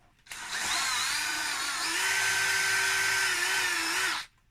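A power drill spins a model tire against sandpaper, whirring steadily for about four seconds with a high, slightly wavering whine, then cuts off abruptly.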